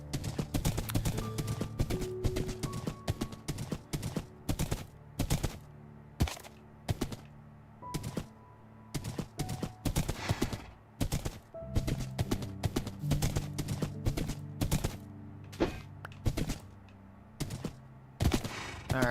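A Minecraft horse clip-clops in a long run of sharp, evenly spaced hoof clicks, loud and close, with short gaps between bursts and no talking.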